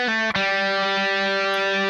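A distorted electric guitar plays a slow riff, one sustained, harmonically rich note ringing out loud and close after a brief pick attack, with no talking.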